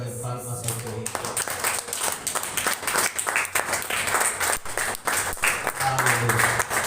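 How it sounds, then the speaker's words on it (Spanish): A church congregation claps and applauds together as an offering of praise, a dense, continuous wash of hand claps lasting several seconds after a voice briefly speaks at the start. "Bríndale una ofrenda de palmas a tu Hijo"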